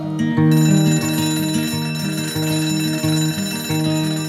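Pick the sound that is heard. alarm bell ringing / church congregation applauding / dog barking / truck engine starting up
alarm bell ringing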